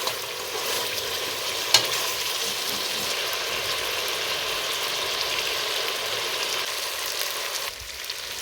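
Marinated chicken for biryani fries in a pan with a loud, steady sizzle that runs unbroken, with one sharp clink of a utensil early on.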